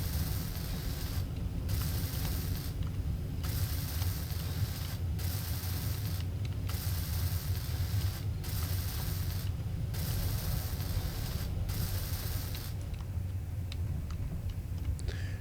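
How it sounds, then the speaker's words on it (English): Block welding in the Space Engineers video game: a continuous mechanical grinding and ratcheting drone, broken by brief regular cutouts, heard alone without talk. "We'll weld this all up."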